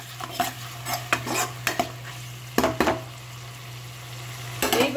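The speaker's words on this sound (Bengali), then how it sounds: "মশলাটা আরো 2 মিনিটের মতো আমি কষিয়ে দেব" Spice paste cooking down in a pan for a vegetarian navratan korma, with a low sizzle, a constant low hum and bursts of spoon scraping and clinking against the metal, busy at first, then sparser with pauses.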